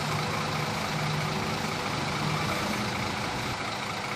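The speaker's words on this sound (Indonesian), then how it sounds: "Bus PMH telah memasuki juga Nopin 286 menuju loket" A PMH intercity bus pulls into a bus terminal in Pekanbaru, its low diesel engine rumbling steadily and fairly distant amid broad, noisy background hum, with no talk over it.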